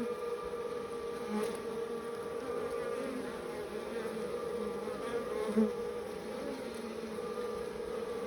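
Honey bees hum and buzz around an open hive with drawn-out comb, a dense continuous drone close by with occasional louder passes of individual bees.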